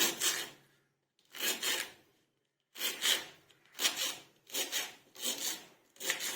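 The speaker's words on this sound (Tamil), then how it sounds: "இந்த மாதிரி நம்ம குட்டி குட்டியாக கட் பண்ணிக்கலாம்" Broad beans (avarakkai) are cut into small pieces on a board, giving a series of close, soft scraping chops in short bursts with brief pauses between them.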